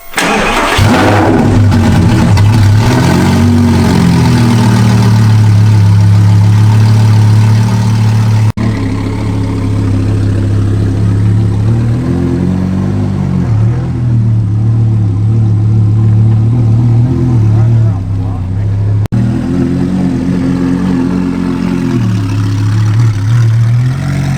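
A loud Audi R8 V10 Plus with a straight-piped exhaust idles with a deep, rumbling note, then revs up and down in several rising bursts, harsh and close.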